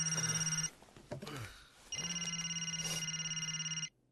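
A telephone rings loudly with a repeated electronic trill, broken by a short gap with faint rustling before the ringing resumes and cuts off.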